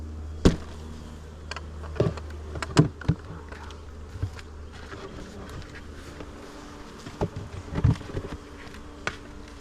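Honey bees buzzing around an opened Flow Hive and a Langstroth hive outdoors, a steady close drone punctuated by knocks and scrapes of hive parts being handled.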